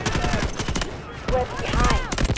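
Bursts of gunfire from the video game Delta Force Hawk Ops crackle in quick volleys over a busy in-game battle, with a voice talking partway through.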